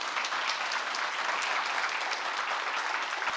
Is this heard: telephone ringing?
no